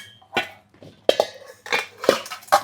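Brass bowls and utensils clink and clatter as they are handled, a series of sharp metallic knocks and rings close by, spaced irregularly with short pauses between them.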